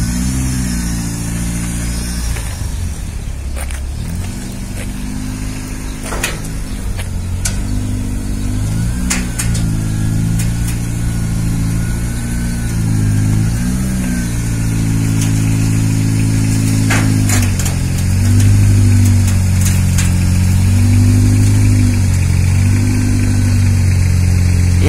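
A borrowed Opel Kadett's engine runs close by, idling low and rising in repeated revs and bursts, loud and steady with the throttle blipped again and again.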